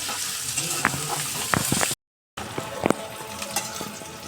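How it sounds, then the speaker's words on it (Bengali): Onions frying in a pan give a steady close sizzle, broken by a few sharp stirring scrapes and one brief gap of silence. "আগে পেঁয়াজটা ভালো করে ভেজে নিই"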